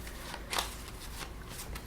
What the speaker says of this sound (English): you shuffle these cards